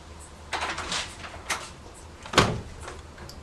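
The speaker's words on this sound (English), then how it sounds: "I'm gonna go answer the door, alright?" A door is answered and opened indoors: a few soft knocks and handling thumps, then a sharper latch click, with no talking over it.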